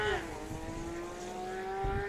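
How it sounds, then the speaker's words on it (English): A race car at Thunderhill spins its wheels launching off the line, a high engine drone that rises and then holds a steady pitch, heard from a distance with faint commentary underneath. "Farka spins it off the line."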